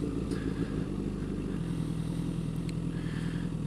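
A motorcycle pulls away on too much throttle as the clutch is released, giving a loud, steady engine drone whose low tone shifts downward partway through.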